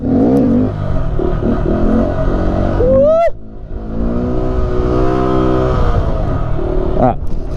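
A 2021 Honda Grom motorcycle revs hard up close for a wheelie, its engine pitch climbing sharply and cutting off before roaring again, loud and continuous throughout.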